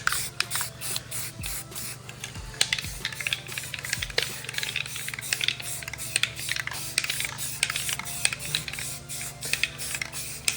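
Guide coat is sprayed onto a Mustang body panel in short, quick hissing bursts, a rapid, rhythmic series of light spray puffs at close range with faint clicks between them.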